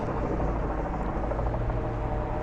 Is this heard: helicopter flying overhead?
yes